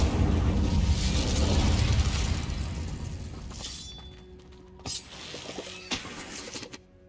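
An Incendio fire spell cast in the Hogwarts Legacy video game gives a loud roaring, crackling burst that fades over a few seconds into scattered pops and small clicks.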